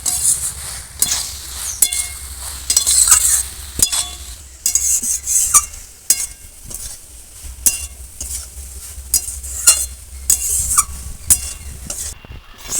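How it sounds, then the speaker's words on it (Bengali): Spices and vegetables, with chilli added, sizzle loudly as they sauté in a pan while a utensil scrapes and clinks against the metal in repeated stirring strokes, close and alone without talk. "একদম মশলাগুলো কষিয়ে নেবো"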